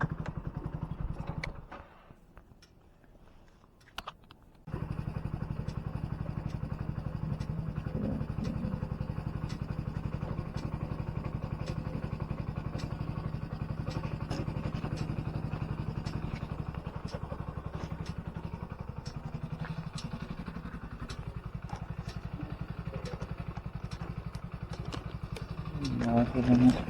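A delivery rider's motorcycle on a night road, its engine droning steadily and close for most of the stretch, briefly dropping away near the start, with clattering road bumps and a voice talking over it.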